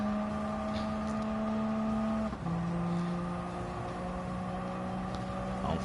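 Racing car engine held at full throttle in Gran Turismo 7 in the rain, a loud sustained whine that drops in pitch at a gear change and then steadies again, continuous and close.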